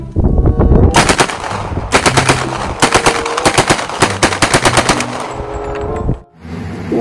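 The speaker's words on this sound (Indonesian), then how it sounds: "Di sini juga ada tembakan Azuri." Azuri gun firing in a dinosaur battle video game: loud, rapid bursts of automatic gunfire in several sharp rattling volleys separated by short pauses.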